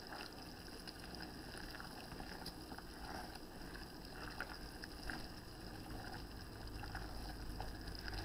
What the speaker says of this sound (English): Directions said to bring us to a rolling boil, something that can't be stirred down.